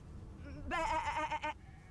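A single sheep gives one loud, wavering bleat lasting under a second in the Divinity: Original Sin 2 role-playing game, set against a quiet low background.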